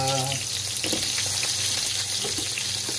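Carrots sizzle and fry in a hot pan, a constant dense crackle close up, with a short tonal sound at the start and faint stirring clinks scattered through.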